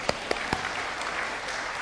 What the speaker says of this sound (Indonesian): Kasih tepuk tangan dulu istri saya.